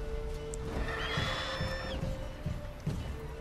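A horse whinnies loudly with a rising, wavering call, over hoofbeats and background game noise in The Witcher 3: Wild Hunt.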